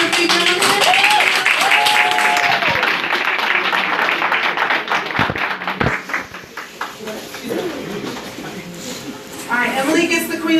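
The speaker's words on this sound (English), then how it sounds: "Let's give her a big round of applause." An audience claps for a guest, with a burst of applause at first that thins into scattered claps, mixed with loud talking and cheering voices throughout.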